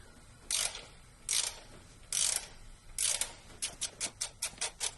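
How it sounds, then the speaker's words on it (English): A ratchet wrench tightening a long middle bolt on a turbocharged Mazda Miata engine during timing and cam and crank seal work: four slow ratcheting strokes, then a quicker run of short clicks, close up and fairly quiet. "I'm gonna start tightening this longer bolt in the middle"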